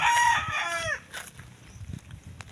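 Rooster crowing loudly among farm chickens, a long strained call that drops away and gives way to soft clucks and scattered yard noises nearby, with no talking.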